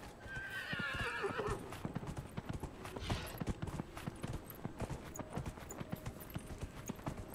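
A horse in Dragon Age Inquisition gallops with quick, steady hoofbeats and lets out a loud whinny near the start, with the clip-clop rhythm continuing throughout and no voices over it.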